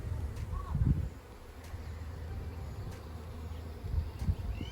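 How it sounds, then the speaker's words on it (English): Honey bees hum inside an opened hive during a beekeeper's inspection, a close, steady low buzz that swells louder at moments as frames are handled, with occasional light clicks and rustles. "Make sure we don't roll any bees, and especially our queen."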